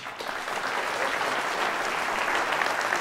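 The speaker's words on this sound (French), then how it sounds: "Je vous demande d'applaudir Cyril Mercury." An audience at a final campaign rally claps steadily for a candidate being introduced, a dense sustained round of applause from a crowd without talk.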